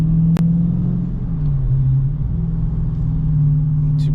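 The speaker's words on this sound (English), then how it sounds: "from inside the car, this is kind of how it sounds with the stock exhaust" A stock-exhaust 2023 Dodge Challenger Scat Pack 6.4 heard from inside the cabin with the windows up gives a loud, steady low rumble that dips slightly and settles. A brief click is heard near the start.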